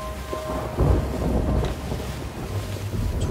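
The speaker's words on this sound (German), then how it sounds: "Segel sind voll im Wind." Wind fills a ship's sails at sea in the pirate game Sea of Thieves, a broad rushing gust with low rumbling buffets and creaks, fairly loud and close, with no talking.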